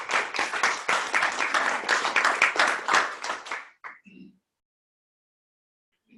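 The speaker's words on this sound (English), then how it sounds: "If we can give them a round of applause." An audience claps in a dense round of applause for about four seconds, fairly close, and then it stops. A brief voice is heard afterward.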